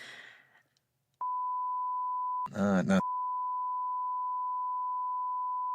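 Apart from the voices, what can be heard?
beeps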